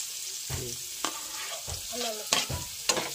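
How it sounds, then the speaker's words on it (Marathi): Chopped onion fries in hot oil, a soft sizzle punctuated by several scraping stirs of a spoon against the pan at irregular intervals, close and without speech. "कांदा टाकूया, कांदा शिजवून घेऊ मस्तपैकी."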